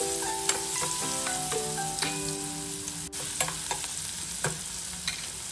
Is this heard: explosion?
no